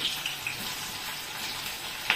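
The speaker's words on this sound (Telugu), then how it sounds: "ఆనియన్స్ కొంచెం ఎర్రబడేంత వరకు పెట్టుకున్నాం." Onions and green chillies fry in a pan with a constant, hissing sizzle close by and a couple of sharper spits.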